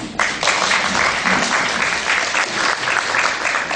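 An audience at an architecture and urban policy forum gives brief, steady applause to welcome the discussion chair, a moderately loud wash of clapping lasting a few seconds with no talk.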